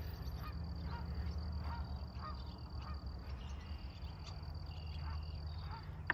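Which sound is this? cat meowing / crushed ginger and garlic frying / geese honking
geese honking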